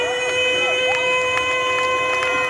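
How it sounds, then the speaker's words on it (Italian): Outdoor crowd in Piazza Manzoni, Jesolo, clapping and cheering at an evening show, a steady wash of noise under loud sustained music with horn-like tones running throughout. "L'applauso per Jesolo!"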